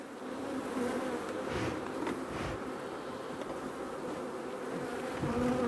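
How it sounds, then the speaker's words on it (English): A dense swarm of honeybees buzzes around an open hive during a beekeeping inspection, a continuous close, textured drone that swells slightly toward the end, with no talk over it. "I'm going to whisk some of these bees away from the side and you put it down quick."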